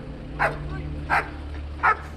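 A police dog gives three spaced, sharp barks at a moderate distance over a low steady background rumble.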